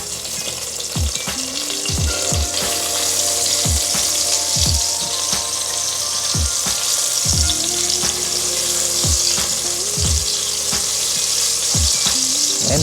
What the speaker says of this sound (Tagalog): Okay, mainit na ang ating mantika. So, ang lagi kong sinasabi, kapag meron akong sili, ang sili ang una ko nilalagay.